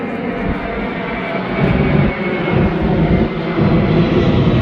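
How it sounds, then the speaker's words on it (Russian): Airplanes constantly passing over the port at Heraklion, heard as a steady, loud broadband jet-engine roar that swells slightly midway and holds to the end, with no talk. "самолеты постоянно летают"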